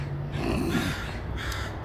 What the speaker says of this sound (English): the crows don't seem to be too happy